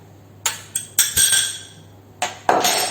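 Flour being mixed into chocolate cake batter in a bowl: a handful of sharp clinks and scraping knocks from a utensil against the bowl, coming in irregular bursts with short pauses between.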